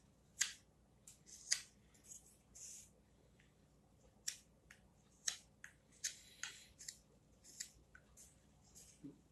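A wooden cooking spatula having its chamfers carved with a knife, crisp short slicing strokes close up, coming one after another in an uneven rhythm with small pauses, no talking.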